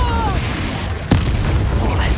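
A Confringo fire spell blasts in Hogwarts Legacy, one sharp burst near the middle landing over a dense, rumbling game soundscape with faint tonal effects.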